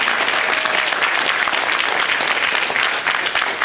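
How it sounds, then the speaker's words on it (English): An audience at the Gatling Center reopening applauds the mayor with dense, steady clapping that stays loud throughout with no pause. "Please give him a round of applause again, please."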